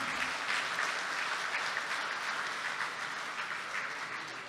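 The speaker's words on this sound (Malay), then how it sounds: "Berikan tepukan gemuruh sekali lagi kepada pahlawan-pahlawan di hadapan ini." Crowd at a political rally applauding, a dense, sustained wash of clapping from many hands that stays loud throughout and eases slightly toward the end.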